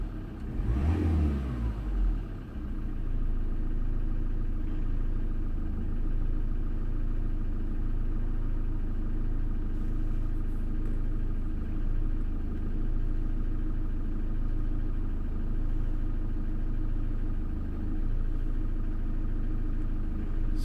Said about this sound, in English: The engine is idling now